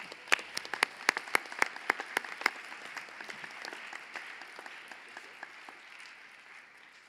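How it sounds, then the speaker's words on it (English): A crowd claps in a burst of applause, strong at first and then thinning out into scattered claps toward the end. "Let's give them all a round of applause"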